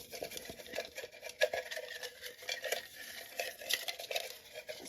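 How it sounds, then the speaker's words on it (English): Stirring and mixing in a container for a craft project, with a steady run of close scraping, clinking strokes that keep going without pause and no talk over them. "Mixing that up good."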